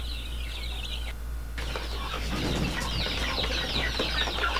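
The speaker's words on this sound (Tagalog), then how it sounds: "So yung kanyang mga sisiw din po dito ay nasa 8 yung kanyang mga sisiw." Native hens clucking with their chicks in a free-range poultry yard, soft chirps and clucks scattered over steady background hum, no talk.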